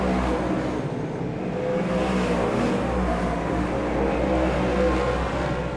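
Superstock race cars at TWS Paradise Valley Speedway roar into the mountain turn, a loud, continuous engine drone with no break and no voices.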